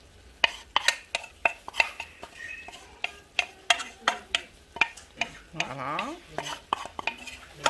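Jambalaya being stirred in a pot with a utensil, a steady rhythm of scraping clinks against the metal, close and fairly loud, with a brief spoken word near the start.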